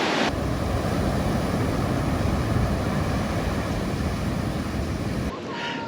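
Ocean waves breaking at Playa del Amor beach in Zipolite, Mexico, at sunset: a loud, steady roar of surf with wind buffeting the microphone, continuous and close, with no voices.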